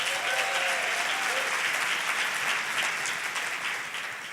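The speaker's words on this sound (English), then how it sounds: "How about a round of applause for those 3 speakers?" Applause from a conference audience at a middle-level education general session, loud, dense clapping across a large hall that stays full and then gradually tapers off.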